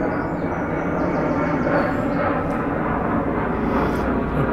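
A steady, loud roar of a jet passing overhead near an airport fills the whole stretch, broadband and continuous with no break or talking.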